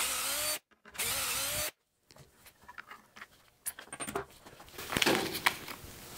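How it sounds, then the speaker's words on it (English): A power drill bores holes through a Dowelmax doweling jig in two short, loud bursts separated by a silent gap, followed by quieter clicks and clatter of handling the tool and workpiece. "And drill these last two holes."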